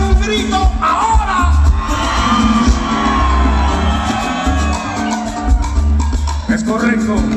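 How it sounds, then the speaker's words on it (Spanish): A live concert audience shouts and cheers loudly and continuously, forming a dense crowd roar with whoops over pounding music. "Me regalan un grito ahora."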